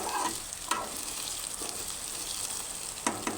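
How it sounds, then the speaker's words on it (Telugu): Mutton pieces frying in hot oil with browned onions in a kadai, giving a steady, close sizzle with a few sharp stirring scrapes and clinks along the way. "బాండీలో ఉల్లిపాయలు వేసి బాగా వేగిన తర్వాత మటన్ వేసి వేగనివ్వాలండి"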